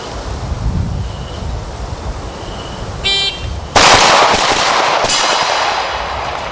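Stock handgun fired at close targets on an outdoor range, a sharp loud blast breaking in partway through over steady wind and surf-like rumble, with a brief clatter just before it.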